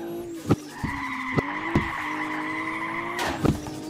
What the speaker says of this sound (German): Alter, wie das jetzt das Auto einfach weiter driftet.